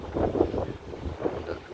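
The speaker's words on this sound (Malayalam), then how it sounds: "നല്ല കാറ്റ്, നല്ല കാലാവസ്ഥ" Strong wind at Vypin beach near the lighthouse in Kerala, Kochi, buffets the microphone in low, uneven, close gusts.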